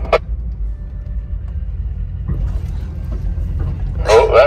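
A car engine rumbling low and steady while the driver shifts into second gear, with brief voices at the start and end.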